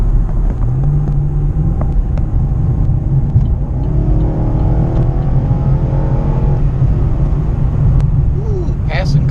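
A Chevy SS sedan accelerates while passing other cars on the road. The engine note climbs over a loud, constant cabin and road rumble heard from inside the car.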